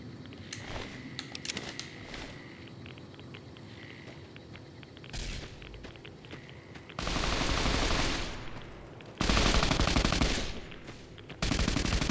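An automated turret defense system in Fallout New Vegas opens fire, with loud, sustained machine-gun bursts breaking out after a quieter stretch of scattered game sounds.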